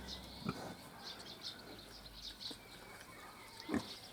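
Young Hungarian Mangalica pigs being fattened on alfalfa grunt faintly a couple of times, with quiet birdsong chirping in the background.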